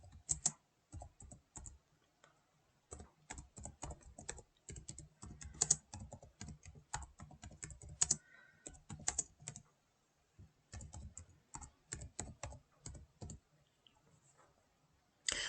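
Fast, crisp keystrokes clatter on a computer keyboard in irregular bursts, broken by short pauses, heard up close in a quiet room.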